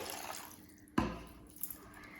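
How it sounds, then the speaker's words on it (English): Water added slowly to tahini in a bowl: one sharp, close drip or splash lands about midway through a quiet stretch, followed by a faint liquid rustle and a couple of small ticks, with no voices. "So I'm going to add the water slowly"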